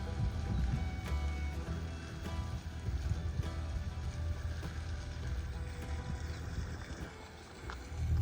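A canal boat chugs along the River Lea between Hertford and Rye House, its diesel engine giving a low, steady throbbing rumble nearby, with faint water and outdoor ambience around it.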